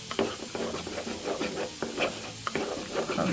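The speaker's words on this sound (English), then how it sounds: "And some ancho chili paste. So this is going to give us some of the heat too, y'all." Ancho chili paste mixture stirred in a pan, a continuous close scraping and swishing with a soft sizzle underneath and occasional sharper spoon ticks.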